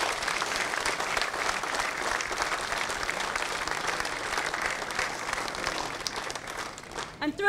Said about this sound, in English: So one more round of applause for this team.